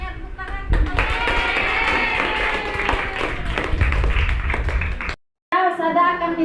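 A classroom of children clapping together during a lesson for several seconds, steady and close, with children's voices mixed in; it stops abruptly, then voices resume.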